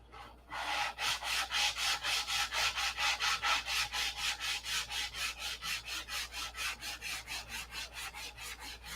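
Steady rhythmic sanding strokes rub back and forth across the fuselage of a control-line P-47 model airplane, close and fairly loud, about two strokes per second for the whole stretch with no talk.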